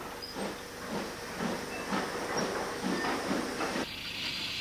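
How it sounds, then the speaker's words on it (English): A Stanier tank steam locomotive pulls away with a short mineral train, a steady hiss of steam overlaid with rhythmic chuffing beats that repeat about twice a second, loud and fairly close, with a brighter high hiss rising near the end. "42613, accelerated away towards the south on a short mineral train."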